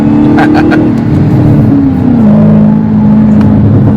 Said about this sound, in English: Oh, wheel spin.